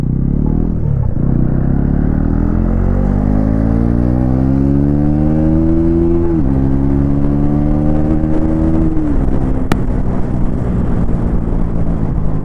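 Riding a 2026 Bajaj Pulsar NS400Z with a 349cc engine and assist-and-slipper clutch produces a loud, close engine drone. It climbs steadily through the revs, dropping in pitch at two upshifts before pulling again.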